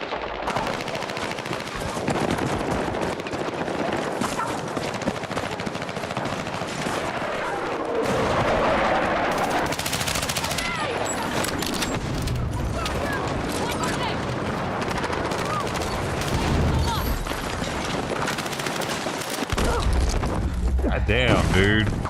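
Gunfire in the battle-royale game PUBG, including a shotgun, crackles in dense, layered bursts of shots and explosions throughout, loud and continuous, with a player talking over the action.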